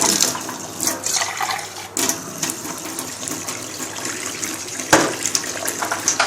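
Running water splashes and gurgles into a container of vinegar and laundry oxygen powder cleaning mixture nearby, with occasional clinks and louder bursts of pouring.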